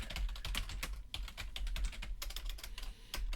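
Fast, irregular typing on a computer keyboard while writing in Scrivener, with crisp close key clicks in quick bursts and brief pauses, fairly quiet and without any voice.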